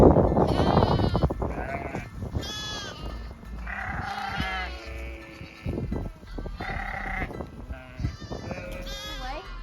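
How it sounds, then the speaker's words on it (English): Several goats and sheep bleat repeatedly at close range, overlapping calls of varying pitch, with some rustling and movement around them. "You can hear all the goat sounds"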